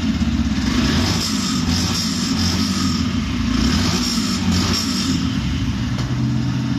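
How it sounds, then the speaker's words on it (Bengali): A blue 2024 Yamaha FZ V3 BS6 motorcycle idles close by, its engine a loud, steady low rumble with a fast, even pulse throughout and no talk. "বাইকের সাউন্ড দেখুন।"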